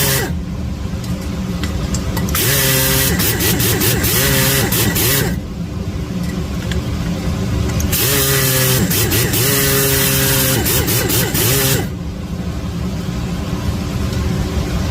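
A dressed stone grinding an exhaust valve seat in a cylinder head during a three-angle valve job: a loud, harsh whine in two long bursts of several seconds each, with a brief pause between them over steady workshop motor noise.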